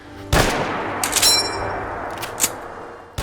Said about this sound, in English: it got this satisfying ka-chink where it ejects the old mag